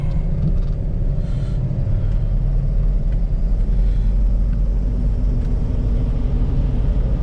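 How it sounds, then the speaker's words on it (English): A 2000 Ford Excursion V10 4x4 cruising on the road, with a loud, steady low rumble of tire roar and engine drone from inside the cabin, constant throughout. "these tires make a little bit of noise, which you're going to expect that with this type tire on it"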